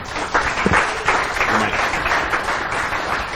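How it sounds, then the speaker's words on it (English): A room of people applauds a speaker as he comes up to present, with steady crowd clapping for about three seconds and faint voices mixed in underneath. "And everybody give a round welcome of applause to Andrew"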